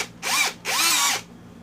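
An Aneerpower 13mm cordless brushless hammer drill is test-run in two loud bursts, a short whir and then a longer one, each spinning up and winding down, with no talk.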